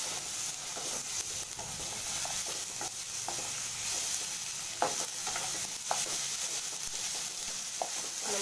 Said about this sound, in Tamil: பாருங்க தக்காளி நல்லா வதங்கிடுச்சு.